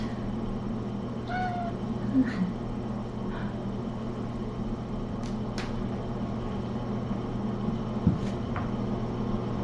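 A few short meows from tiny kittens, one a high, thin cry, come faintly over a steady low hum. No one speaks.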